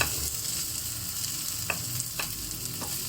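Chopped onions and garlic stir-fried in about two tablespoons of oil, giving a steady soft sizzle with a few brief utensil scrapes against the pan.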